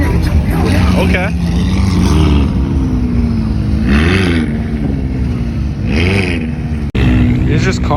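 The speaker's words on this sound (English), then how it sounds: "It's just constant cars rolling in, rolling out." Cars roll in and out at a busy car show with a Porsche Carrera GT, Senna, 918 and SVJ, engines humming and revving steadily close by while people talk over them.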